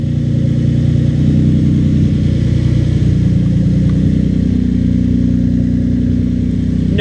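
A Nissan 350Z engine runs with only catalytic converters fitted, no muffler or resonators, producing a loud, steady, raspy drone at close range that continues throughout without talk.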